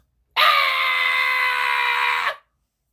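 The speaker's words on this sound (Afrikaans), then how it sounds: "skree 'n jong seun" A young boy gives one sustained, loud, high-pitched scream that lasts about two seconds and then cuts off abruptly. The scream is heard alone, with no talk.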